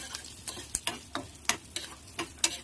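Tempering (tadka) for curd rice crackles in a pan: a run of sharp, irregular pops and spits, close and fairly loud, standing out clearly over a quiet background with no talk.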